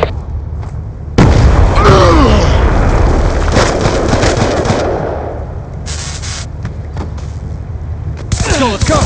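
A grenade blows up during a Black Ops II hardpoint match, a loud booming burst over steady gunfire and game voice callouts. Bursts of shooting and further pops follow through the scene.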